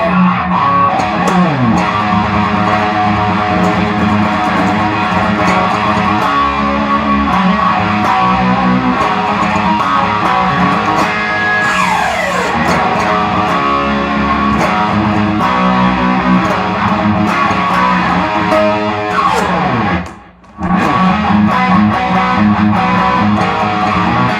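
Distorted electric guitar tones play loudly and continuously, with chords and sliding notes ringing through a dense, driven sound that cuts out briefly near the end before resuming.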